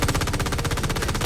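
Rapid automatic turret gunfire in the video game Borderlands 4, a dense, evenly spaced stream of shots rattling continuously at close range for just over a second.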